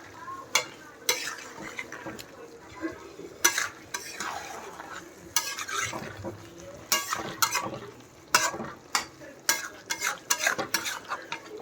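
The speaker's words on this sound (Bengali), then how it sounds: "এই দিয়ে দিয়েছি মাটন কষা, ছেড়েছি সবে, কষা হবে এখন, কষা।" Spicy mutton kasha being stir-fried in a pan, with a spatula scraping and clattering in repeated strokes over a low, continuous sizzle at close range.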